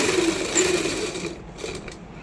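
A sewing machine runs close up, stitching salwar fabric in a single pass with a steady mechanical whir that eases off near the end, no talking.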